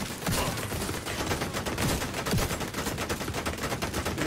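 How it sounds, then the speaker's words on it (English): Video game gunfire in a four-player clan match, rapid overlapping bursts of automatic fire mixed with scattered single shots, steady and fairly loud with no talking. "What are they still shooting at?"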